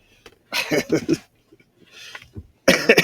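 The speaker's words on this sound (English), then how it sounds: "trying to hold in coughs as well" Close, harsh coughing in two clusters: a run of rapid coughs, a quieter stretch, then another loud burst of coughs at the end.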